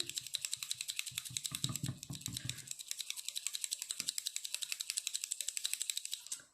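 A glitter brush marker pen shaken steadily by hand, its mixing ball rattling in a fast, even run of close clicks that continues for several seconds with a brief pause partway through.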